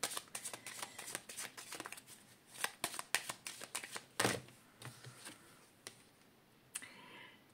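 A deck of Lenormand cards is shuffled and cut nearby, giving a quick run of soft riffling clicks and flicks. One fuller slap is followed by a few scattered taps, all quiet and without speech.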